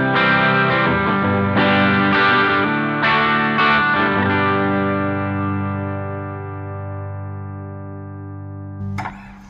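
A Framus Diablo Pro electric guitar played through its bridge humbucker pickup, several strummed chords each ringing out with thick sustain and effects, loud and alone, slowly decaying, then a brief sharp noise at the very end.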